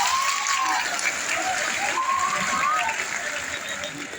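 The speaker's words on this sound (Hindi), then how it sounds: "तालियों से इनका स्वागत।" Enthusiastic audience clapping welcoming a guest at a gathering, a continuous wash of applause with voices and cheers rising over it.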